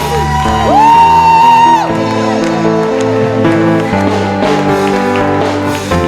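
A church congregation cheers and acclaims in loud, sustained shouts and whoops, with a strong voice rising above the crowd and music underneath.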